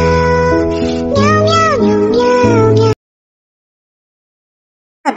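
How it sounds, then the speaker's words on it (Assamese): A cat meows several times in a row, loud and close, each call sliding in pitch, then silence follows with a brief final sound at the end; the scene is a comedy skit set in an exam hall. "Miao Miao"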